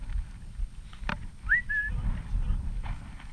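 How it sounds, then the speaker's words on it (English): A brief two-note whistle rises and then holds steady, heard faintly against low background rumble and a single thump. "Who's that whistling?"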